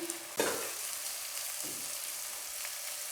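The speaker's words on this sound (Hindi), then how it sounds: "इसको अब मैं मज़ीद भून रही हूँ।" Rajma masala fries in a pan with a constant close hiss and sizzle, broken by occasional scraping stirs and with no one talking.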